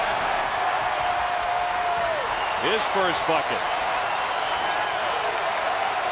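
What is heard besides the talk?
basketball crowd cheering and applauding after a dunk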